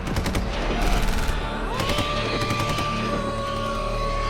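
Rapid bursts of gunfire with bullets flying, a dense, loud fusillade at the start that thins into scattered shots over a low rumble and a sustained whining tone.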